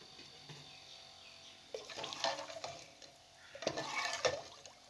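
A spoon stirs lentils and water in a pressure cooker, two bursts of scraping, sloshing strokes against the metal pot, close but soft, with quiet pauses between.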